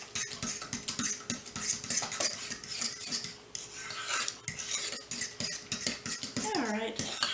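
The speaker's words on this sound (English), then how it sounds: "And I'm still using the fork. Just kind of get it a little bit together." A fork stirs homemade blueberry butter cake batter in a bowl, giving steady close scraping and clinking against the bowl sides with no talking.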